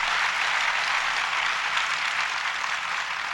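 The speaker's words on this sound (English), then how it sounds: "And for that, we applaud you." Sustained audience applause from a crowd at a 1991 interview and performance event at the Exploratorium, a steady dense wash of clapping at even loudness throughout with no voices over it.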